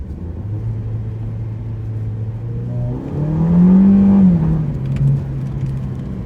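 A Ford Fiesta accelerates hard: a steady engine hum climbs into a louder, rising rev that peaks and eases back, then a brief second surge, close and alone without talk.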